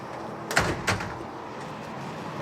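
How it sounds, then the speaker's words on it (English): A heavy 650-kilo flood door at an ice cream factory swings shut, giving two quick solid thuds about a third of a second apart over a steady background hum. "So how heavy is this door? It's about 650 kilos."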